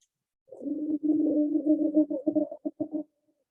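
A person imitates a cane toad's call with a low, vibrating trill for about two and a half seconds, ending in a few choppy pulses.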